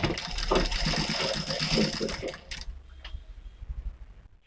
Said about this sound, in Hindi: चलिए ये सिलाई लगाते हैं।